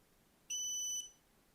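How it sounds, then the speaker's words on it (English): Falcon 2 Pro 22W diode laser engraver giving a single clean electronic initializing beep of about half a second, high-pitched and tonal against a quiet background. "so you can hear the beep of initializing"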